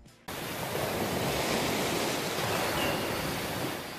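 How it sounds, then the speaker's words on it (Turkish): Steady broadband rush of sea waves in a hearing aid advert, starting abruptly after a moment of quiet and holding a full, even wash of surf throughout without any voices. "Dalgaların sesini duymak için deniz kıyısında olmanıza gerek yok."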